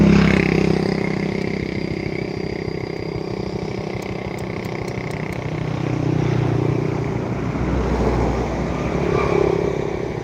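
A Yamaha Mio M3 motorcycle, newly rebuilt after an engine overhaul and burning through its oil again, runs on a test with a loud, close, rattly engine drone that rises and dips slightly throughout.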